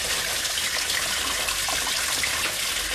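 Steady rushing water pours and splashes continuously out of a leaking container, a broad hissing gush without pauses.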